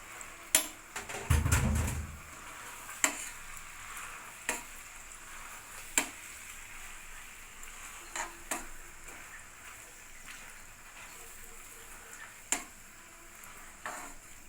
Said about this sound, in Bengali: নেড়ে চেড়ে পাস্তাগুলো দিয়ে দিব।